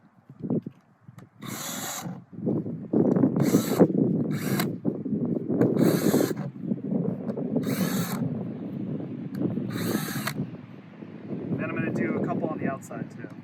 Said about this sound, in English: I'm just going to drill a couple holes, and I'll start in the corner.